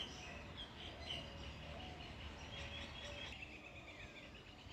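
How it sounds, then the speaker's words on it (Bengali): Small birds chirp near a pond with a paved bathing ghat and a red boat, their faint, distant tweets repeating irregularly over a quiet outdoor background. "পাখির কিচিরমিচির।"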